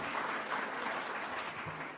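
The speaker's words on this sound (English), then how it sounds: "I didn't expect an applause on that one." Audience applause at a talk on debt and deficits, a steady crowd clapping that holds loud then slowly tapers, with no voices over it.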